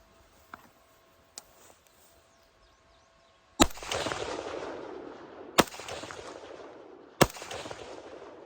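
Rifle shots are fired across a pond, with bullets ricocheting off the water. Three sharp, loud cracks are each followed by a long, rolling echo. Fainter clicks and handling noises come before the first shot.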